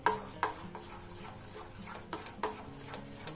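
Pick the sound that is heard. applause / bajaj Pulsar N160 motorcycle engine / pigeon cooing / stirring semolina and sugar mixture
stirring semolina and sugar mixture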